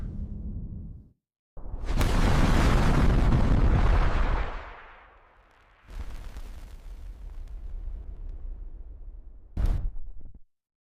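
A rocket launch ends in fire: a sustained, loud roaring rush builds and fades, then a second broad rumbling burst follows and ends in a sharp final blast, with no voices.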